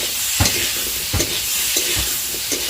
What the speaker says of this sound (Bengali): একটু ভেজে নিচ্ছি, তারপর একটু জল দিয়ে আর একটু কষিয়ে নেবো।